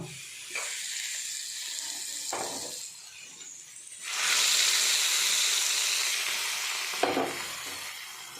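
A fried sliced-onion tempering poured into a sardine curry, with a brief sizzle and stirring followed by a sudden, louder hiss that swells and then slowly fades, all close by and without speech.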